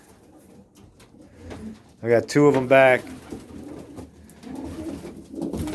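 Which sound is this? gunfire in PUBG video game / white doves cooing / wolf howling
white doves cooing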